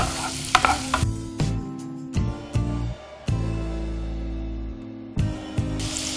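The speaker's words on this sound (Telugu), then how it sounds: "ఆల్రెడీ ఆయిల్ కొంచెం వేడైపోయింది కాబట్టి ఉల్లిపాయ ముక్కలు వేసేసి కాస్త వేయించేద్దాం" Chopped onion pieces frying in hot oil, a loud close sizzle broken by repeated scraping stirs and clattering spoon knocks against the pan.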